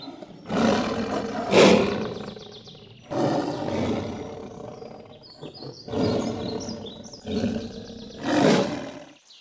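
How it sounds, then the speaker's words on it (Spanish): A lion roars in several long, deep, rumbling bursts, loud and fairly close, with brief pauses between them. "un poquito de miedo el ruido que hace el león"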